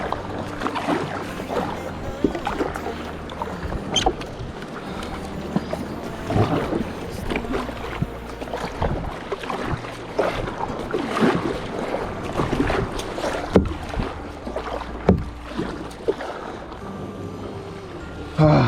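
Paddle strokes splash and dip into water as a kayak glides along, a steady irregular wash of water under faint wind, with people talking at times.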